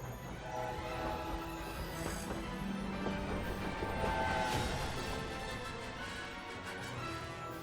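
Train station ambience in the game Hogwarts Legacy, a steady rumble of rail cars and machinery with faint tonal horn or whistle hints, continuous and even, with no talk over it.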